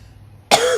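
One sudden, loud, close cough bursts out after a moment of near silence.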